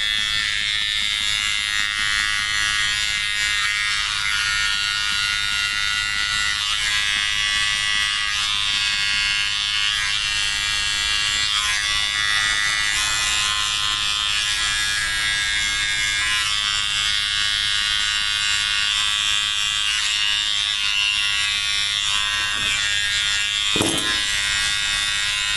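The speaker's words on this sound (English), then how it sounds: "Now on the feet, I'm going to use the finish trimmer and shape it." An electric finish trimmer shapes the hair on a Yorkie's feet, giving a steady, close, high-pitched buzz that runs unbroken from start to finish.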